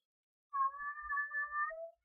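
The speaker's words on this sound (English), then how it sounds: "my friend's cat's talking again" A cat meows indoors, one drawn-out, wavering call that rises and falls, faint and alone in a quiet room.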